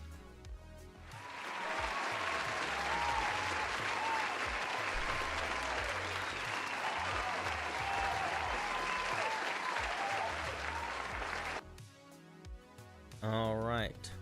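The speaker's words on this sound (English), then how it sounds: "Let's give Gangamel a round of applause." A crowd breaks into loud, sustained applause that continues for several seconds, then fades as a voice starts speaking.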